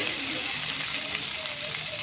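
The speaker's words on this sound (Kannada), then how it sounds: "ನೋಡಿ ಆ ಒಗ್ಗರಣೆ ಹಾಕೋತಾ ಇದ್ದೀನಿ." Steady, bright sizzling of tempering spices and chillies crackling in hot oil, close up and continuous with no talking.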